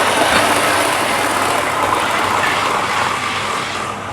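Model railway train running steadily on a layout, a continuous close-up rumble and hiss with faint clickety-clack of wheels over the track, holding at even loudness and easing slightly at the end.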